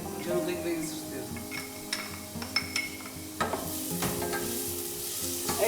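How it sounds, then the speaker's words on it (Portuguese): Onion, garlic and oregano sizzle in hot olive oil while a utensil stirs and scrapes the pan, clattering sharply over a steady close frying hiss. "quando o azeite, antes de fumar, estiver quente, vamos adicionar a cebola, o alho e aquela dúzia de folhinhas de orégãos"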